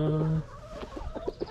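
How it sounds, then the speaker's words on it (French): Freshly released hens meet a rooster, giving a short cluck or crow at the start and then a run of soft, close clucks. "là, on libère les poules. Donc là, normalement, il devrait y avoir la rencontre avec le poulet"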